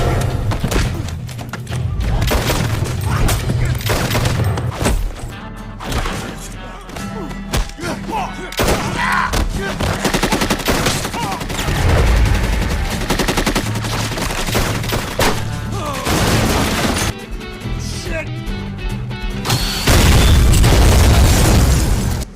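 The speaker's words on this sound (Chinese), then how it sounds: "经过激烈的枪战" Loud, continuous action-film gunfight with rapid bursts of gunfire, booming explosions and heavy thuds layered over a dense score, building to a strong final blast.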